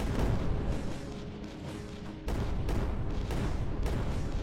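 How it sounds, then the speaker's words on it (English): Explosions and booming blasts from a space shooter video game, a dense, continuous barrage of loud bursts and rumbling impacts, with a sharp jump in intensity partway through. "It seems like there's a lot of explosions"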